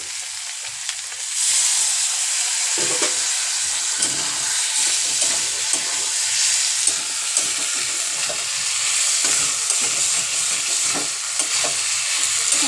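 Chicken curry with nearly cooked potatoes is sautéed and stirred in a pan after a splash of water. A continuous close sizzle and steam hiss runs throughout, broken by repeated soft scraping strokes of the spoon, with no voices.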